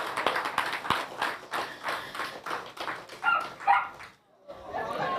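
A dog barks in a few short yips and woofs amid clapping and scattered talk at an outdoor land regularization handover ceremony in Upper Monkey Hill.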